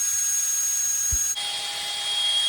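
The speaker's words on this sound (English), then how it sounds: "We're going to use the smaller drill bit to drill the hole." Power drill with a small bit boring a pilot hole in a cabinet drawer for a handle: a steady high whine that shifts pitch partway through, close and fairly loud, with no talking.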